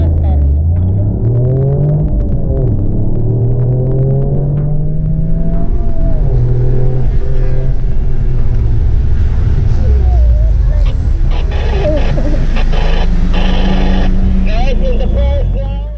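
Loud engine of a Toyota GR Yaris on a track during a brake test, revving and rising in pitch as it speeds toward 80–90 km/h, then dropping away as it brakes to a full stop, with a constant rumble throughout.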